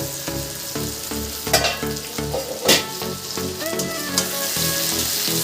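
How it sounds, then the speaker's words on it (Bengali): Potatoes with salt fry in a covered pan for a thin pointed-gourd curry, giving a loud, steady sizzle and crackle with a few sharp clinks and scrapes of stirring along the way. "নুন দিয়ে এবার আমি আলুটা ঢেকে একটু ভেজে নেব।"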